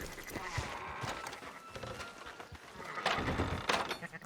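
Sheep bleat faintly amid ambient game sounds in Red Dead Redemption 2, a few thin calls rising over a low, busy outdoor background.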